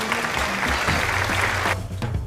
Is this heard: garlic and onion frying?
no